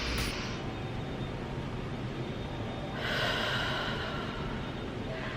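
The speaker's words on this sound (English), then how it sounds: "So what I always like to do is take a deep breath." A person takes a slow, deep breath, with one long inhale followed by a fuller exhale partway through, heard close up against a steady background hiss with no talking.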